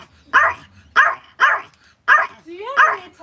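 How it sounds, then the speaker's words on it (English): A dog barks five times at a steady, fairly loud pace close by, the last bark trailing into a higher whining yelp. "Why are you barking?"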